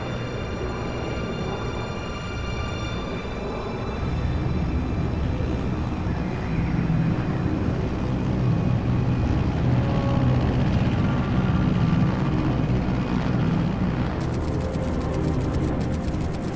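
Aircraft in flight at 30,000 feet over Pakistan in the video game Metal Gear Solid Delta, a constant dense engine roar and rumble that swells slightly midway, with a brief higher buzzing layer near the end.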